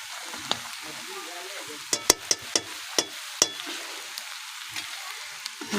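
Fish oil fry sizzles softly in a pan, with a run of sharp metallic clinks and scrapes from stirring standing out over the steady close sizzle.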